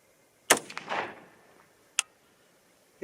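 Sharp report of a .300 HAM'R rifle fired at a range target, a single loud crack followed by a brief decaying echo, then another short sharp crack about a second and a half later.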